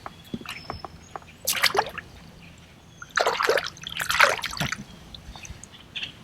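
Water splashes and sloshes in a few short bursts as a fish is released back into a pond, close by, with quiet gaps between them and no talking.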